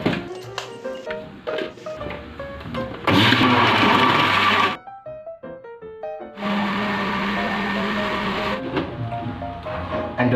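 A blender whirs loudly in two sustained bursts as it blends avocado, milk, sugar and ice, with background music and brief pauses between the runs.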